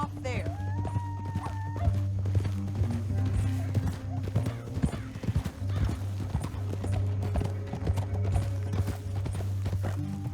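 Horses gallop with steady clip-clop hoofbeats through a Red Dead Redemption 2 game scene, a horse whinnying near the start, with a low musical drone and spoken dialogue running over the hooves.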